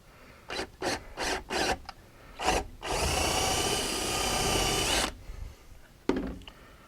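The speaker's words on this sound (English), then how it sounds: "Then I'll drill through from this side." A power drill fitted with a 23/64 bit bores a clean hole through wood that is backed by scrap stock to limit tear-out. Several short whirring bursts come first, then one sustained two-second drill run, close and alone.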